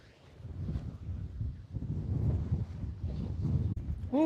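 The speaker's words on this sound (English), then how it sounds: "Ooh, it's windy" Wind gusts across rocky seaside tide pools on a Hawaiian shore, buffeting the microphone in low, uneven rumbling surges that rise and fall throughout.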